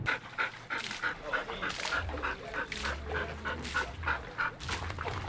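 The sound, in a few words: dog barking while herding a lamb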